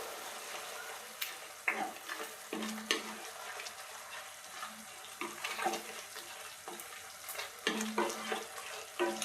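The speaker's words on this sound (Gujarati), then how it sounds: "અને બધું મિક્સ કરી લેશું." Spices being stirred into oil for dum aloo in a frying pan, with turmeric, chutney and coriander-cumin powder: repeated scraping strokes and soft sizzling at close range, with brief clinks and a faint background hiss, no talk.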